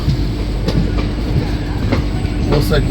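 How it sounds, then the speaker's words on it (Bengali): Black Diamond Express passenger train, an ICF rake on the Dhanbad–Howrah run, pulling into Asansol station: steady loud rolling rumble with faint wheel clatter and a few sharp squeals, continuous throughout. "আমাদের ট্রেনের পরবর্তী হল্ট এলো আসানসোল।"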